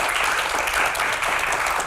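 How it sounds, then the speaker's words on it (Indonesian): Students in a studio audience break into brief, dense, steady applause, a close and lively wash of clapping with no talking over it. "berikan tepuk tangan yang paling meriah untuk rekan-rekan mahasiswa yang ada di studio"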